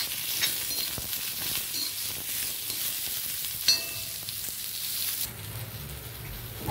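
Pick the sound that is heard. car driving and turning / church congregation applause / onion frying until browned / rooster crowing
onion frying until browned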